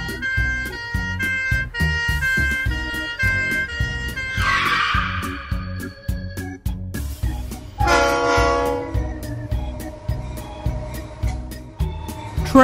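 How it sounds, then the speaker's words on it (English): A train rolls past with rhythmic clacking and bursts of horn or whistle, loud and near, layered over a musical backing. "Train."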